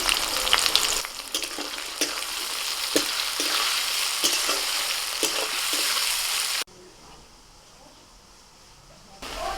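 Chopped onion and four slit green chillies sizzle loudly in hot oil with cumin seeds, stirred in a steady rhythm of scraping strokes, then the frying carries on at a lower, muffled level.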